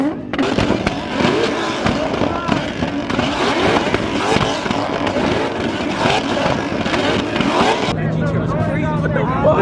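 A Nissan R34 GTR on 2-step launch control bangs and crackles in a rapid, loud stream of pops from the exhaust, dense and near, while people talk over it.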